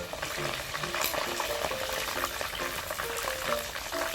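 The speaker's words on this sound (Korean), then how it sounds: "튀기는 거예요 여러분" Garlic sizzles and crackles steadily as it fries in very hot oil in a pan, with small bubbling pops throughout and no talking.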